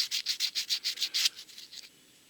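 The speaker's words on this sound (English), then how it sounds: "I'm going to get a piece of sandpaper and I'm going to clean that electrode" Sandpaper scrubbed across the electrode of a spark plug from a Kioritz trimmer, about ten quick, even, raspy strokes up close that fade out at the end, with no voice.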